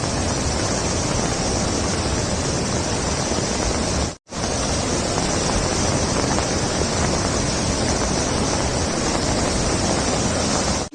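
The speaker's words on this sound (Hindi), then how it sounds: "नदी इतनी खतरनाक आ रही है ना" Roaring, rushing river swollen by a flood after heavy rain, a dense, loud, continuous wash of water noise with a single brief dropout near the middle.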